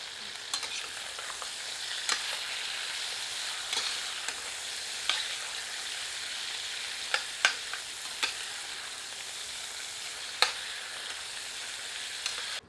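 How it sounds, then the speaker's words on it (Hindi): Mutton pieces for a black pepper curry frying in a pot, a low steady sizzle broken by sharp clinks and scrapes of a ladle stirring at irregular intervals, close and with no talking. "और कड़छी चलाते रहते हैं ताकि सारे टुकड़े समान रूप से भुनें।"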